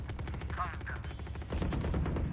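Rapid bursts of Valorant gunfire crackle over a busy background, several quick shots in succession with some faint chatter underneath.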